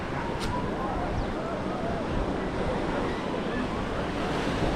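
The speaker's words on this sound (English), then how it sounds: "And the waves." Surf washing onto a white-sand beach at Freedom Beach in Karon, Phuket, Thailand, a steady broadband wash of waves with wind buffeting the microphone throughout, continuous and fairly close.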